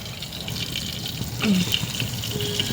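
Tomato rasam mixture is poured into a pan, a soft continuous splashing trickle of liquid heard close by for a few seconds, with faint sizzling underneath.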